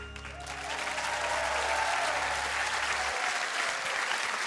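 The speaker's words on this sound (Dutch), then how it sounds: "Geef nog een groot applaus." An audience claps loudly and steadily after a child sings a Frozen song, with the last sustained musical note ending under the applause.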